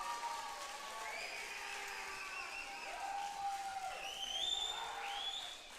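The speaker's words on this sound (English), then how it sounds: "Can you guys give a round of applause for Michael Dacey so he hears us over" An audience gives a round of applause at a live Wednesday night gathering, with moderately loud, sustained clapping and scattered cheering voices.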